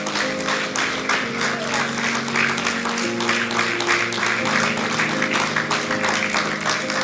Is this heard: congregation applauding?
yes